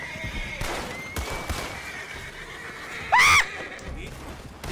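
Horse in the video game Red Dead Redemption 2 giving one loud, sharp whinny near the end, amid gunfire-like bangs and other game sounds.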